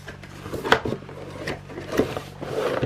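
A desk drawer is pulled open in a quiet room, giving a few short wooden scrapes and knocks, close and fairly soft.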